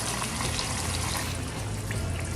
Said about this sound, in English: So I'm adding the hot water or the warm water so that it does not slow the cooking process.